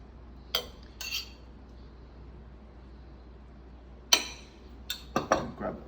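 Spoon clinking against a plate while sambal is spooned over a dish, a few sharp metallic taps and scrapes separated by quiet, closer and quicker toward the end.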